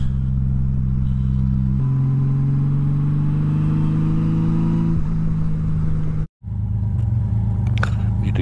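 A motorcycle engine hums and climbs steadily in pitch while riding, then drops briefly as the gears shift and picks up again, loud and close with wind noise throughout.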